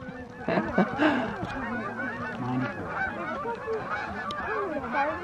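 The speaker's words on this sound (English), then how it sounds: "Look at the geese are here to wish you well, Gabby." A flock of geese honking at a horse show, with repeated overlapping nasal honks at moderate distance over a steady outdoor background.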